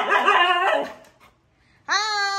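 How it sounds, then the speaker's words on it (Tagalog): A dog gives a drawn-out whining bark, a short silence follows, and then it lets out a second sustained, harmonic howl-like call, close and fairly loud. "ito si Germania yung aso niya"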